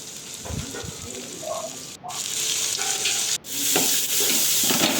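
Chopped onions sizzle and fry in a hot pan as the base for chicken chilli, a steady close crackling hiss broken by a few brief stirring pauses, with no talk.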